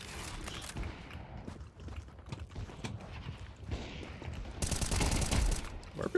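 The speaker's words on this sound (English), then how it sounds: "Watch this deagle shot" A Desert Eagle pistol fired in a video game, a few sharp, distinct shots amid game noise, followed by a loud dense burst near the end.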